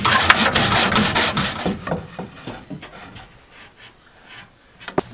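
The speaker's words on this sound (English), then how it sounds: "cutting some wood to support these sides" Wood is cut outdoors for supports on a tree fort build, giving a loud, rapid rasping saw stroke that slows into softer, scattered strokes and a couple of sharp knocks near the end.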